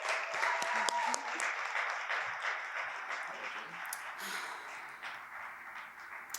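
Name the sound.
audience applause for a poet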